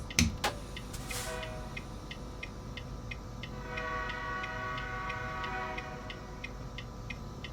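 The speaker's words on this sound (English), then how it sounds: "Here comes another train." A train in the video game American Truck Simulator rolls past with a steady rhythmic clicking of wheels over track joints, a faint tonal hum rising midway.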